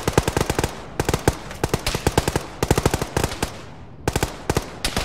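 Rapid automatic gunfire in the military video game Arma with ShackTac, loud close bursts of machine-gun shots in repeated volleys with short gaps between them.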